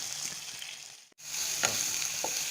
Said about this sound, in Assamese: এতিয়া মই অকণমান লৰাই দিছোঁ তিতা কেৰেলাখিনি